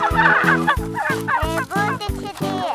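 Turkeys at a turkey farm gobble loudly and repeatedly in a rapid, rhythmic series of close, harmonic calls that overlap one another.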